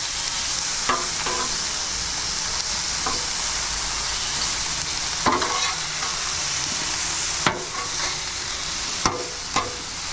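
Wild hog and vegetables searing on a Blackstone griddle at a campsite, a continuous hiss and sizzle broken by several sharp scrapes and clacks of a spatula turning the food, close up, with no talking.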